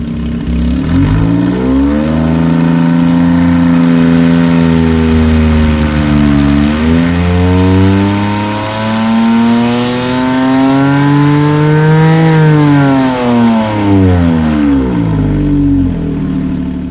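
A Porsche 997.1 with a naturally aspirated 4.1L engine wails loud and close on a dyno, climbing in pitch through repeated sweeps, dipping briefly around midway before soaring to a high peak and falling away.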